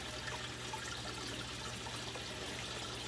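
Water dripping and trickling from pothos roots pulled out of the sump of a 75-gallon oscar aquarium, a faint continuous splashing wash over a low hum of equipment.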